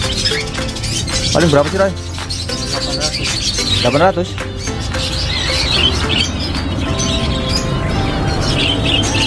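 Australian parakeets and other songbirds chirp and squawk in a busy bird kiosk, dense bright calls layered through the scene while people talk over them.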